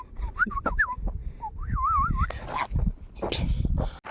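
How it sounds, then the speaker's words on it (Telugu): A dog on a trek in the Malvern Hills, UK, gives several short whimpering, whistle-like yips close by, with rustling and a voice breaking in near the end. "ఎంత అందమైన కుక్క"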